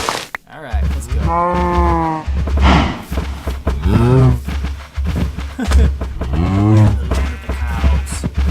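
Minecraft cows give three drawn-out, loud moos in a row, spaced a couple of seconds apart, with quieter game sounds between the calls.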